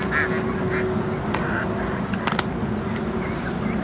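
Ducks at a farm pond beside a coop give a few scattered quacks and honking calls at middle distance over a steady outdoor background hum, with no talking.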